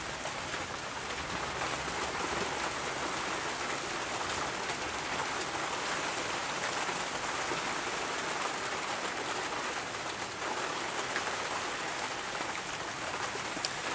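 Heavy rain pours steadily onto a tin roof, a dense, even hiss of drops that holds at constant loudness throughout with no voices.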